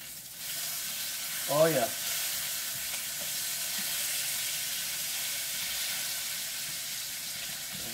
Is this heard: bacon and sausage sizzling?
yes